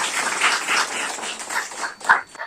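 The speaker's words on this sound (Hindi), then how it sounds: "दो ताली बजाएंगे प्रभु के लिए" Church congregation clapping together in praise, a quick run of crisp, rhythmic handclaps from many people in a room, moderately loud and ending with a few sharper claps.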